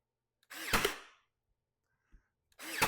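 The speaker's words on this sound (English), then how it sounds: "I'm just going to brad nail them in." Two sharp, loud bursts of a pneumatic brad nailer firing close by, separated by a pause with a faint click.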